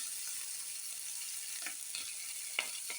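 Prawns and a tomato frying together in a pan for lau chingri, a constant low sizzle with scattered sharp crackles and stirring clicks, heard close and alone.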